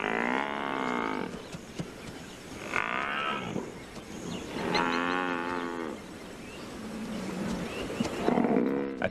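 A herd of African buffalo bellowing in long, harmonic moaning calls, several overlapping voices that rise and fall in repeated bursts across the stretch, close and fairly loud against a faint grassland background.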